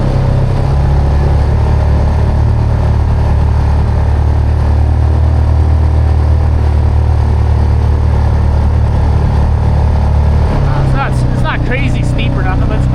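Off-road vehicle engine holding steady around 4,500 RPM while climbing a steep slope, a loud continuous drone throughout that shifts pitch near the end as a voice talks over it.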